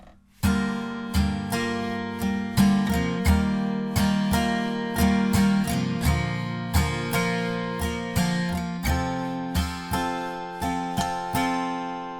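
An acoustic guitar strums the chorus chord progression of a song in a down, down, up, down, up pattern, bright ringing chords with a steady rhythm, close and alone.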